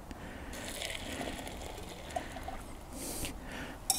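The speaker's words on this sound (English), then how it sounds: "Here's 2 cups of water just brought to a boil." Two cups of just-boiled water pour into a dehydrated soup pouch, a soft, quiet trickle and splash with faint crinkling of the pouch near the end.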